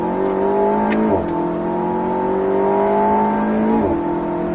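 An Alpine A110S revs hard at full throttle on the Circuit du Var race track, its engine note climbing steadily, with brief dips at the gear shifts before it pulls again, loud and close.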